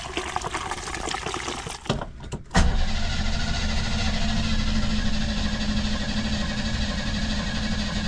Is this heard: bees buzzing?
no